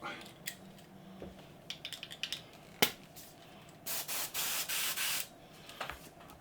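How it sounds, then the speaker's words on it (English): A modelling airbrush is test-fired in one sustained hissing burst of about a second and a half, with a few soft clicks and handling noises beforehand. "I better check my airbrush works."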